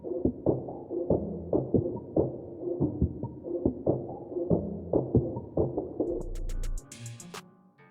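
A percussion loop pitched down an octave, time-stretched, with reverb and EQ, thuds in a steady, muffled rhythm of soft hits, followed by a brief bright swell at the end.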